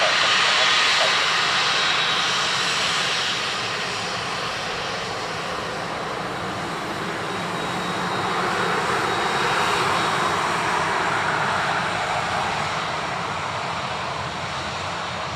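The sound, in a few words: Aer Lingus airliner arriving from Rome at Dublin Airport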